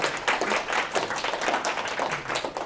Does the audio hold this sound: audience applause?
yes